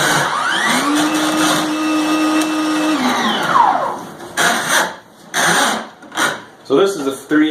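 A Milwaukee cordless drain snake with a 3/8 inch by 50 foot cable, run forward on its foot pedal, whines steadily for about four seconds, then winds down into a series of short, uneven bursts.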